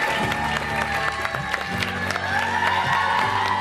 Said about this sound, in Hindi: आपकी भरपूर तालियों में तशरीफ ला रहे हैं बहुत ही खूबसूरत इंसान दानिश